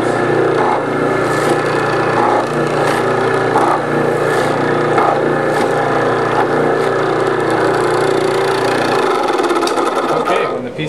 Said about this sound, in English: putting the spinning tool up against the piece and pressing firmly to form it around the mandrel